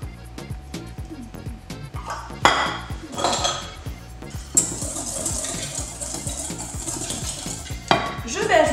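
Flour, sugar and yeast are stirred together in a bowl for a vanilla-raspberry entremet, with repeated close scraping and clinking of utensil against the bowl in an uneven rhythm and a louder sweep midway.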